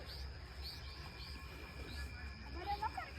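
Several birds chirping and tweeting in a tree at a farm hotel near a waterfall, light scattered calls at moderate distance over faint background noise.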